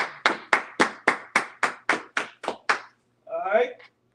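A congregation at a Kansas City Sabbath service claps in a steady, even rhythm, about ten loud, sharp claps close together, followed by a brief vocal sound after the clapping stops.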